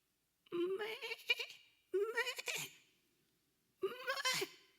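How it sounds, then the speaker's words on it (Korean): Three faint bleats of a lost sheep, each a wavering, quivering cry with short pauses between them, heard alone without talk. "어디선가 희미한 양 울음소리가 들리는 게 아니겠어요?"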